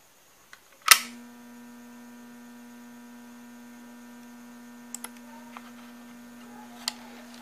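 A 250A welding machine, refurbished with copper windings, switches on with a sharp click and then hums steadily at idle with no load. The hum is a constant electrical drone, broken only by a few faint ticks.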